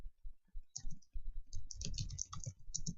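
Soft, close keyboard typing of a search entry, an uneven patter of light key clicks with brief gaps that picks up into a denser burst toward the end, with no voices heard.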